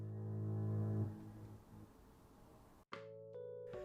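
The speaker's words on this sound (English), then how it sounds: "I created it using the rap air horn sound" A rap air horn sample sounds as one sustained, loud blast lasting about a second. It then fades into a decaying tail, and after a short silence a second horn-like tonal burst follows.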